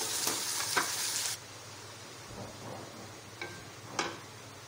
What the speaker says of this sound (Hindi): इस तरह इसको थोड़ा हमने ऑयल में फ्राई कर लेना है